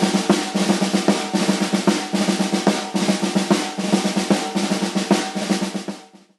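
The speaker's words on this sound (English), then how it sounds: "the Single Ratamacue is one of the 40 snare drum rudiments, and it sounds like this." A single ratamacue rudiment played by hand on a cajon: quick single strokes with grouped flams and accents in a steady repeating rhythm, close and clear with no talking.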